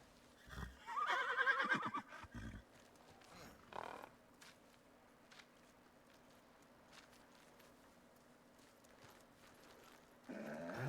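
A horse in Ghost of Tsushima gives a loud, close neigh, followed by a few scattered hoof clops on the ground in otherwise quiet surroundings.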